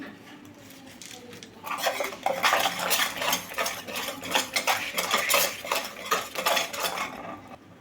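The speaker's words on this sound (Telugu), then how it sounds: "ఇప్పుడు కొంచెం బటర్ అయితే వేసుకుందామండి." A utensil scraping and clinking against a pan as butter is stirred into caramel, rapid repeated metallic strokes starting after a quiet moment, close and steady, no talk.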